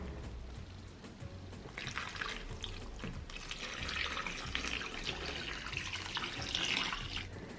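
Hot water runs steadily from a tap into a bowl with baking soda, splashing and gurgling as it fills, fairly quiet throughout.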